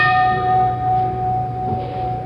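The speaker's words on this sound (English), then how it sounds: "With this single gong, headquarters NORAD is put on warning that an unknown has entered our air defense system" A single gong alert sounds at NORAD headquarters, the North American Air Defense Command in Colorado Springs, struck once and left ringing with a steady, sustained metallic tone and no voices.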